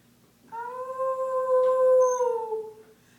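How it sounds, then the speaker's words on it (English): A neighborhood dog lets out a single long, wavering howl, loud and close, rising then sliding slowly down over about two and a half seconds with no other sounds around it. "A deep, scary, wallowing, purging howl that she had never heard before"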